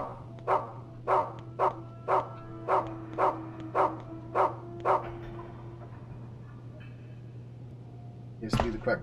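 A dog barks in the Rule of Rose video game, a steady run of about nine evenly spaced, clear barks over a constant low hum, followed by a sharp noise near the end.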